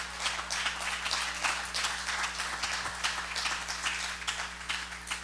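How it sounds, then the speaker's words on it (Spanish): A church congregation applauds, a faint, continuous patter of many hands clapping under a steady background hum. "Denle un aplauso al Señor."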